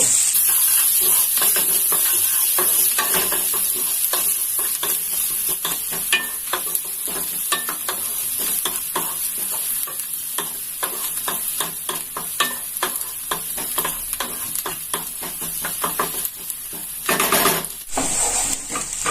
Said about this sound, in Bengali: এবার এটাকে ভালো করে নেড়ে আমি একটু সামান্য লাল করে ভেজে নেব।